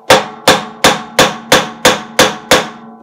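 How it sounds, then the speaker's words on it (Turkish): A large hammer strikes a bolt fitted to the back of a washing machine drum to knock out the bearing: eight sharp, evenly spaced metallic blows, close and loud, with no talk. "Az büyük bir çekiç aldım."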